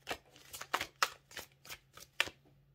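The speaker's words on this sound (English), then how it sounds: "He's saying three shuffles." Quiet, close riffling of a deck of tarot cards, a run of soft papery bursts in quick succession with no talking.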